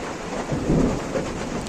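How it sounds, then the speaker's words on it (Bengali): Thunder rumbling during a hailstorm, a low rolling boom that swells and fades over a steady wash of rain, with no voices. "মেঘ ডাকছে"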